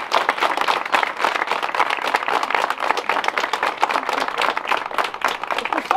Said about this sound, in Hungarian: Egy nagy tapsot engedek.